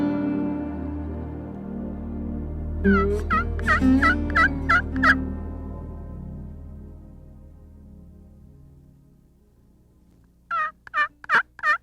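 A wild tom turkey gobbles in a rattling burst over steady low outdoor rumble near a creek bottom, then gobbles again later, closer and louder.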